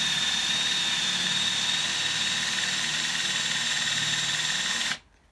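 A power drill bores into wood in one steady, loud, high-pitched whine that runs unbroken for about five seconds, then cuts off abruptly, with no talking.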